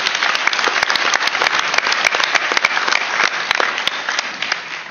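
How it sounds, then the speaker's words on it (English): A seated audience at a Senate Veterans' Affairs Committee field hearing in Atlanta gives a sustained round of applause, dense steady clapping from many hands filling the room, with no voices rising above it. "So give them a round of applause."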